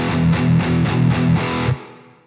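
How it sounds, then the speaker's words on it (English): Electric guitar through heavy overdrive into a vintage cab with reverb plays a few loud, rhythmic chugging chords, then the last chord stops and a short reverb tail fades out. "I'm using the Overdrive 1 here with quite a bit of drive and just pushing it where I normally do"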